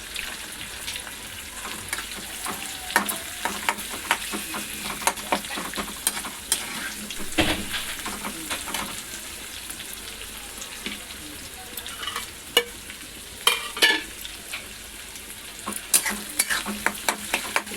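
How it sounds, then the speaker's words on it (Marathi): Onion sizzles and fries in a pan as it browns for a cabbage dish, with a constant hiss broken by frequent sharp stirring scrapes and clicks, close and alone without talk. "मी कांदा ॲड करते याच्यामध्ये चांगला लालसर करून घ्यायचा आपण कांदा पण"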